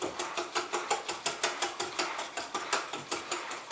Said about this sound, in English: You hurry up and whisk that right up